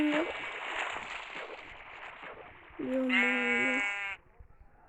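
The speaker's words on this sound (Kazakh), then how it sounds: "Ё-моё, мына қойлар үлкен ғой." Minecraft sheep bleat twice, loud and close: a short bleat at the start and a longer, wavering one near the end, with a man's brief exclamation under the first.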